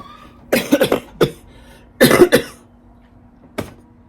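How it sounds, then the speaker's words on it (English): A person coughs in a quiet room, close and loud, in a few clustered bursts followed by a single later cough. "This cough."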